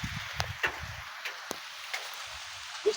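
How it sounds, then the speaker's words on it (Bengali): Steady light rain falls on a pond where people stand nearby, a soft even hiss of drops with a few sharper taps close by. "আর এই যে পুকুরের বৃষ্টি পড়তেছে"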